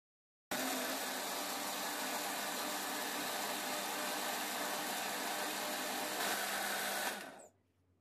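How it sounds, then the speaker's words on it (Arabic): Guava juice whirred in a kitchen blender with ice and room-temperature water: the motor kicks on abruptly and runs at a loud, constant high-pitched whine for about seven seconds before spinning down, close up and alone. "وبنغطي الخلاط وبنخلط تمام لمدة دقيقتين."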